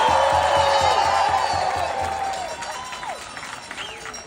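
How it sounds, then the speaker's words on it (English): An outdoor No Kings rally crowd in Everett applauds and cheers, with steady broadband clapping and rising whoops and shouts layered over it, slowly fading. "Give yourselves a round of applause."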